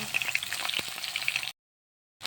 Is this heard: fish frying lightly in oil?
yes